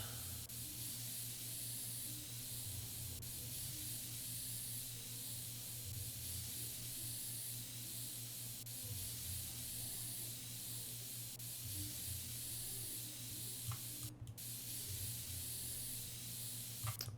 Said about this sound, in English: Spray all around.